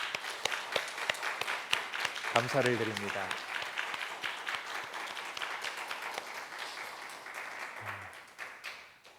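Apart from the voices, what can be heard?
applause in church service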